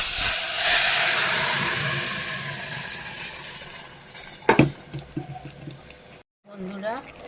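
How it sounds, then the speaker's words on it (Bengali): Bottle gourd dal hits a hot pan with a loud, close broadband sizzle that slowly fades, followed by clatter, a brief silence and a voice speaking. "এবার এই দেখুন লাউ ডালটা আমি এর মধ্যে দিয়ে দেবো।"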